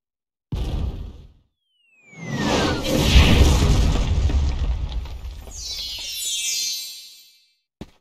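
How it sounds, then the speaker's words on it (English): Cannon fire in the video game Kingdom Hearts Birth By Sleep, a whooshing launch followed by a long rumbling boom and blast that rolls on for several seconds, loud and close with no talk. "Cannon fire? Where's it coming from?"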